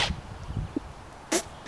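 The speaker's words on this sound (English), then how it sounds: "Nobody sneezes like that." A person sneezes while suffering from allergies, a sharp, brief burst near the end following softer sniffing and breathy noises, fairly close and alone without talk.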